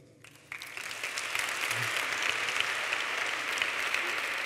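University graduation ceremony audience bursting into applause with some cheering, building quickly from quiet into sustained, dense clapping that fills the hall.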